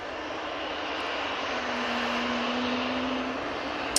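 An easyJet airliner taxis out at Manchester Airport, its engines giving a steady, broad roar that builds slightly as a faint rising whine holds underneath.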